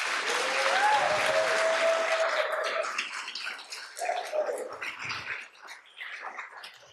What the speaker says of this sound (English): join me in just giving a quick round of applause to the graduates